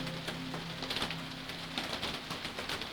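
Steady rain patters outside a train window at night, a dense hiss with scattered soft droplet ticks and a faint low hum beneath, continuous and unbroken.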